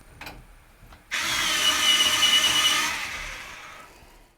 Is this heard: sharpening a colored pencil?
yes